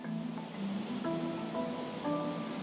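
Ocean surf washes steadily in a broad, continuous roar of waves out at sea, with some faint tonal sounds drifting over the water noise and no speech.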